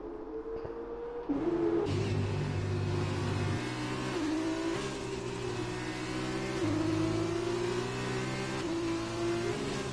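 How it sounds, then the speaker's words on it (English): Several F2 racing cars in the F1 2020 video game at Spa run in a close pack, their engines revving loud and steady with shifting pitch as they accelerate, with a buzzing, layered tone throughout. "These cars are just running so close together"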